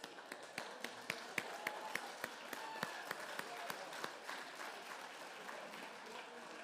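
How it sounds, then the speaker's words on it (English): A crowd applauds steadily, many hands clapping at once with a few sharper, louder claps standing out near the start. The applause is moderately close and continuous. "Let's give a round of applause for Terry."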